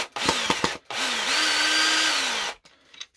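Power drill driving a screw into a plasterboard fixing with a washer in a wall, a few short bursts of whirring followed by a long steady run that slows and stops, then brief handling clicks.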